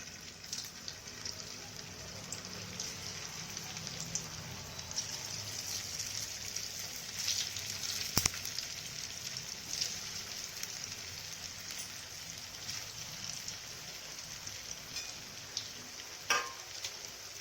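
Kothimbir vadi, coriander fritters, frying in hot oil, a faint steady hiss and crackle running throughout with a couple of brief sharper pops, quiet and close with no talking.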